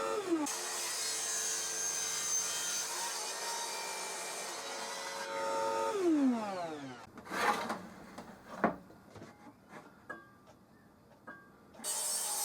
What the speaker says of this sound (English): used the mitre sled on the table saw to make the cuts